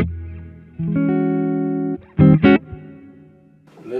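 Clean electric guitar notes ring out through an amp set to a clean twin sound, a sustained chord followed by a couple of sharp plucked hits and fading decay.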